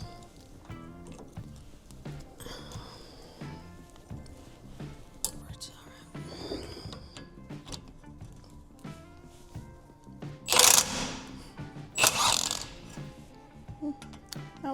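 A nut being worked off a Jeep tie rod during a lift install: metallic clanks, tool clicks and rattling close by, with a couple of louder bursts of ratcheting or hammering and talk in the background.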